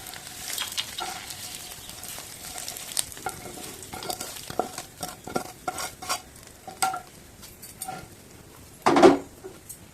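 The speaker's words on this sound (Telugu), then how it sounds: "ఇలా అయితే మొత్తం కలిపేసుకుందాం. రైస్ అంతా బాగా పట్టించుకుందాం." Tamarind rice (pulihora) is stirred with tempering spices in a pan on a switched-off stove, giving faint scraping and soft irregular clinks of a utensil against the pan over a quiet background, with one louder clatter near the end.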